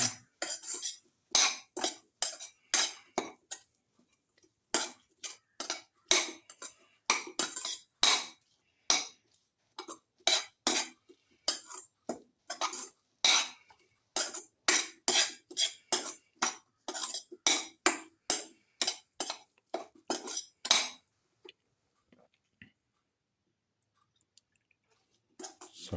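Utensils clink and scrape against a dish while a salted shallot and tomato mixture is stirred, a steady run of sharp taps that stops near the end.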